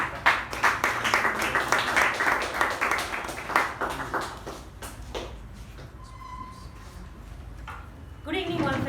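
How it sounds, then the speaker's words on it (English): An audience at a Toastmasters club meeting breaks into a burst of dense, continuous clapping that rolls for several seconds, then thins out and fades into room murmur. "Let's give her a round of applause."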